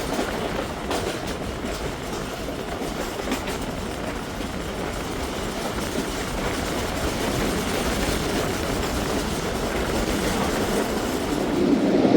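A Zakariya Express passenger train runs steadily on the rails in foggy weather near Tetha, a dense continuous rumble and rattle with faint clickety-clack, close and loud throughout, building slightly toward the end with no voices.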